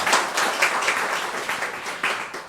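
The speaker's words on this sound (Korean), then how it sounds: "우리 다 함께 환영하는 뜻으로 박수 한번 칠까요?" A church congregation claps together in a warm, steady burst of welcoming applause that holds for a couple of seconds without fading, with no speech.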